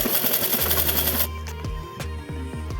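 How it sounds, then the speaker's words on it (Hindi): A sewing machine stitches along the folded edge of a salwar waistband, a loud continuous whirr that gives way to slower, spaced mechanical thumps and knocks near the end. "और इस पर भी हम किनारे किनारे से सिलाई लगा लेंगे।"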